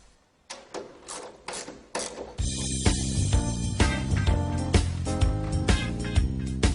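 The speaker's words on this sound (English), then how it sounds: "The unit is now secured by closing the locking brackets." A Siemens LX busbar tap-off unit is secured by closing its metal locking brackets, giving a run of sharp clacks, then denser ringing, ratcheting metallic clatter that sustains and rattles loudly to the end, with no talking.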